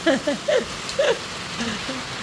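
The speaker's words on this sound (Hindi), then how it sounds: "बहुत बढ़िया बारिश पड़ रही है।" Heavy rain falls in a steady, hissing wash. Several voices talk and call out over it.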